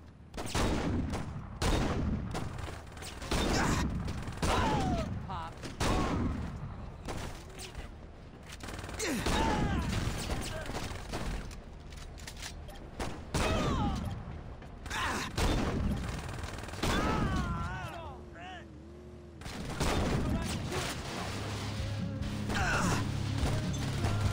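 Bursts of gunfire, crashes and explosions from the Saints Row video game, with repeated loud blasts coming in irregular clusters across the whole stretch.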